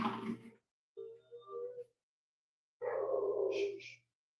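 Pet dogs let out a few separate barks and yelps in short bursts with silent gaps between them, moderately close and otherwise quiet.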